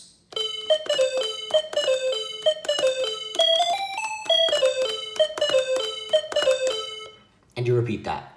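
A theme tapped out on a musical calculator, a bright electronic beeping melody of short repeated notes in a steady rhythm, loud and alone, ending with a brief noisy burst.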